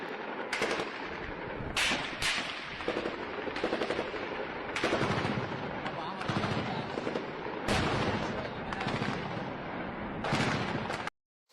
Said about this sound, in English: Hezbollah has been exchanging heavy artillery fire with the IDF